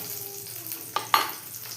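Whole ginger and garlic frying in a pan for a hotel-style paneer matar, a soft steady sizzle with a couple of sharp stirring clicks and pops, close and alone.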